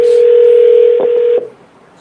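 A telephone line gives a steady, loud single tone for under a second and a half, then cuts off abruptly, leaving near silence.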